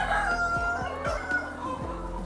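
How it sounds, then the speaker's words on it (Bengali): Hill chickens clucking and crowing nearby in a close, busy series of calls with no talk over them. "পাহাড়ি মুরগি এগুলো কি পাহাড় থেকে সংগ্রহ করা হয়েছিল?"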